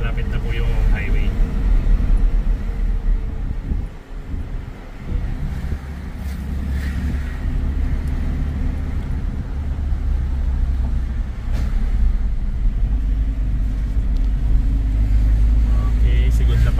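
Suzuki Jimny JB74 2019 manual climbing a hill in second gear on a Baguio City road, a continuous loud low engine drone with wind noise and a brief dip, while a person talks over it.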